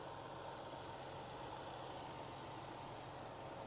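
A Land Rover LR4 idles at a standstill, giving a steady, even, low engine hum that stays constant and fairly quiet throughout, with no other sounds over it.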